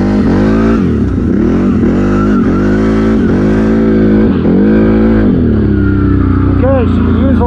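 A 2019 CFMOTO CFORCE 800 Mud Edition ATV engine runs loud and close, revving in repeated rising and falling surges, with people talking over it.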